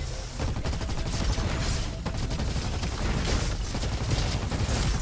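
Junk Rifle fire in Roboquest, a dense, continuous barrage of loud rapid shots with booming low end, sustained throughout without a break.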